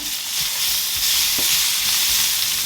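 Chopped garlic frying in a pan for braised fennel, a bright continuous sizzle with a few soft stirring scrapes, close and unaccompanied by speech.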